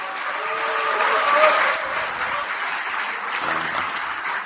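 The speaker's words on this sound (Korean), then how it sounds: "박수 한번 부탁드립니다." Audience applause fills a Democratic Party meeting of regional committee chairs and lawmakers, a steady wash of many hands clapping at close range, with a brief low tonal sound near the end.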